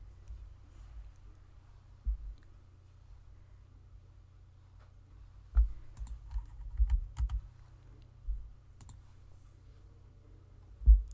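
Sparse computer clicks while a file is saved in the Pixlr image editor, a few soft taps spread out over a quiet background with a low hum, with no talking.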